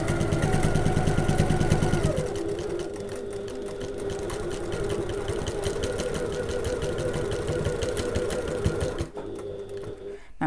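A sewing machine stitching a mesh pocket onto a lining panel runs in a steady, close, loud whir with rapid rhythmic needle clatter, easing slightly after two seconds and stopping briefly near the end.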